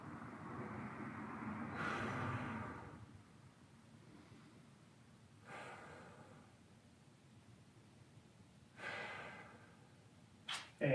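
Three slow, deep breaths taken while holding a stretch in a workout, each a soft airy swell several seconds apart, fairly faint over a quiet background, with a short sharp knock near the end.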